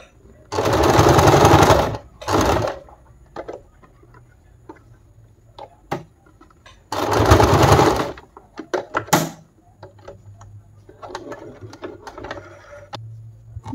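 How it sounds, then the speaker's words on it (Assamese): A sewing machine stitches the corner joint of a homemade sock sewn from old cloth, running in two loud bursts of rapid mechanical whirring, with shorter clicks and a low motor hum between them. "এইটো জইনটো পোনে পোনে এইখন অকণমান এনেকৈ কেঁচিয়াকৈ চিলাই দিম মই"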